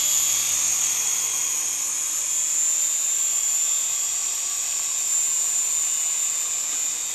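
Small indoor Syma S107/S107G three-channel R/C helicopter with gyro flying steadily, a continuous high-pitched electric motor and rotor whine with no voices.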